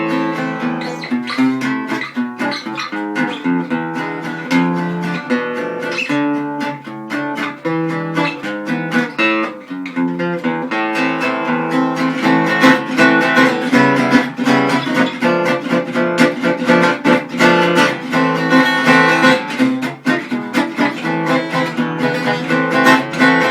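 Gypsy jazz guitar chord progression strummed in a 3/4 waltz feel, a steady, full acoustic guitar sound that grows busier and louder in the second half, with no voices.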